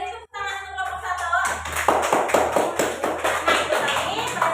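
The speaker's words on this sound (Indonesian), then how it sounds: "Beri tepuk tangan untuk kelompok 1." Clapping from a classroom audience for a student group that has just finished presenting, breaking out after a short voice at the start and carrying on as a steady patter of many hands.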